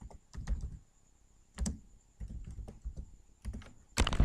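Typing of 'hello world' on a computer keyboard for a first Java program on Windows: several short clusters of quick key clicks separated by brief pauses, close and fairly quiet, with no talking.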